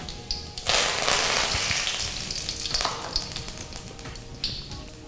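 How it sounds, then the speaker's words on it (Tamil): Curry leaves crackle and sizzle in hot oil with dried red chillies while preparing a seer fish curry, a loud, dense spattering frying sound that flares up sharply after a brief quiet start and keeps hissing steadily with occasional pops. "போட்டதுக்கப்புறமா கருவேப்பிலை போடுறோம்."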